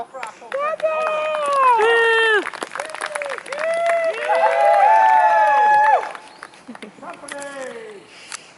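A crowd at a historical battle reenactment firing-line display at Avoncroft applauds and cheers, with many overlapping voices rising and falling in loud waves for several seconds before dying down to scattered calls.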